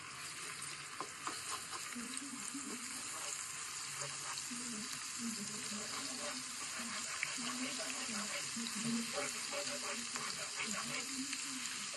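Freshly ground ginger garlic paste fries in the same pan used for chicken pachadi, giving a steady close sizzle with occasional stirring scrapes underneath, continuous and even throughout.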